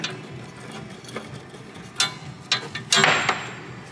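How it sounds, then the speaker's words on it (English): Brake hose fitting on a Volvo being tightened with a wrench, giving a few sharp metallic ratcheting clicks and clanks close by, growing busier toward the end. "So we're gonna connect the brake hose. And tighten it."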